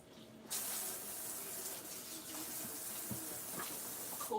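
Tap water runs steadily into a sink while collard greens are rinsed, a broad continuous hiss that surges louder after a half-second start, with small splashes and clinks near the end.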